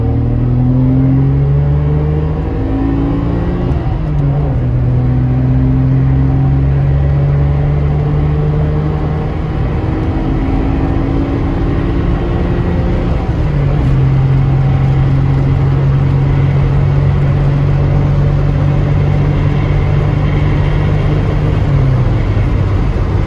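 A JDM car cruises at 55 mph on the open road, giving a loud, continuous engine drone with steady tire and road roar inside the cabin, and a slight rise in engine pitch partway through.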